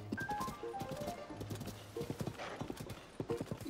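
Horse hooves clip-clop in the Tears of the Kingdom video game, a brisk irregular run of close hoofbeats with a short neigh near the start and faint musical tones behind.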